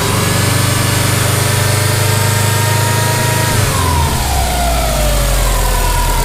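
A Subaru WRX engine runs close by while its coolant system is being burped, holding a steady loud idle with a slight shift in pitch partway through, alone without talk.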